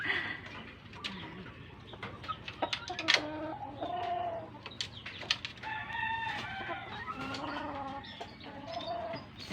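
Several backyard breeding hens cluck and chatter in short, irregular calls, fairly close, with a low background hum.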